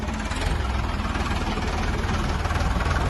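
A steady, low tractor engine idles nearby, a continuous rumbling chug with no breaks or speech.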